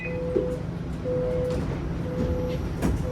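Steady rumble of a Toronto TTC Line 5 Eglinton light rail train in motion, with faint high squeals and tones rising over the noise as it rides and brakes.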